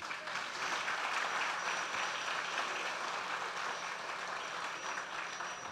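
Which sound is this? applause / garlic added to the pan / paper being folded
applause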